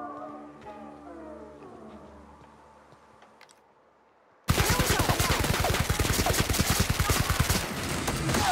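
Dense, rapid automatic gunfire bursts in loud and close in The Outer Worlds after several seconds of quiet tones. The shots continue without a break to the end.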